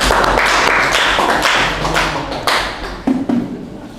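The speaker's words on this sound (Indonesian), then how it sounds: "tepuk tangan dulu." Classroom students clap their hands together after a presentation, a dense burst of close applause that tapers off over a few seconds, ending with a couple of isolated louder claps.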